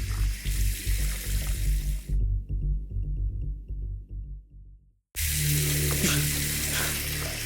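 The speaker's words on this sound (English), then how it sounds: "I hurried to the bathroom and turned on the water, rinsing my hands" A bathroom tap runs with a loud, hissing broadband rush of water, cuts off into near silence for a few seconds, then gushes again just as strongly.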